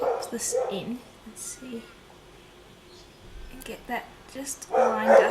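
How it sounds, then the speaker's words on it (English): A dog barks and yips in short bursts nearby, some loud and close and others fainter, while a person speaks softly during a polymer clay pendant tutorial. "I do apologise for the dog."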